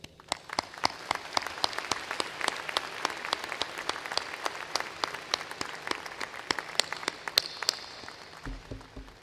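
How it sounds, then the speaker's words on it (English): Audience applause at a spring college of law graduation ceremony: steady, dense clapping from a large indoor crowd sustained throughout, with individual claps standing out close by. "I think they deserve a round of applause."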